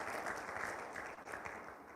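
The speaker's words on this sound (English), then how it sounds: "One more time, a round of applause for Mr. Gochukwu Obichukwu." An audience applauds a speaker at a Nigerian conference, a steady wash of clapping with no voices on top, filling the moment at an even level.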